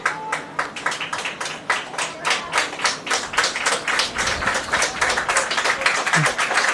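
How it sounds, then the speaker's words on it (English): Fans at a college soccer match between UChicago and Loras applaud, a smaller crowd clapping in distinct, rhythmic bursts that swell and pulse across several seconds in the open-air setting. "Much to the applause of the great fans that Loras brought with them today"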